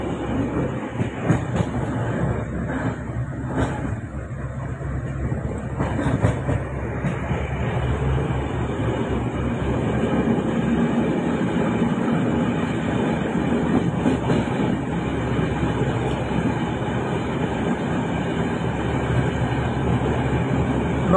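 Passenger train rolling through Kerala past Pallipuram station, a steady loud rumble with rhythmic clickety-clack of wheels over rail joints and occasional squeaks, continuous throughout with no talk.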